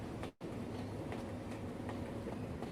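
Train rolling along rails in a steady low rumble with faint rhythmic clicks, briefly dropping out near the start before the rolling noise resumes at an even, moderate level.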